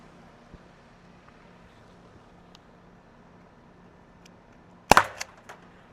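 A Byrna CL less-lethal launcher fires once, a single sharp, loud crack near the end after quiet background, followed by brief rattling tails.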